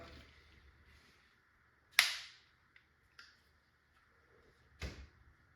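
A Tippmann TiPX paintball pistol running on CO2 fires two sharp, separate pops a few seconds apart, with small clicks and handling noise in between, close by in a quiet room.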